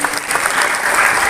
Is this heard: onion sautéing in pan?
no